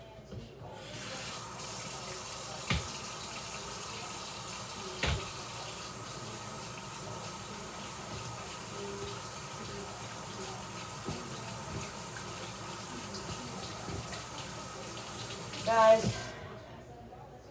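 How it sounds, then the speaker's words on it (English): A tap runs steadily for over fifteen seconds while hands are washed beneath it, with a few soft knocks and a brief splashy burst near the end, moderately close; a voice is heard briefly at the start. "Let me wash my hands."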